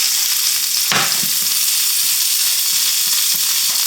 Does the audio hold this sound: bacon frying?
yes